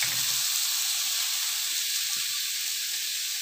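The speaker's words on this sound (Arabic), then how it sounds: "مجرد ما معايا قطعه الزبده هتسيح معايا هبدا انزل بالبصل" Onions frying in melted butter in a pot, a steady broadband hiss and sizzle close up with no breaks, with no one talking over it.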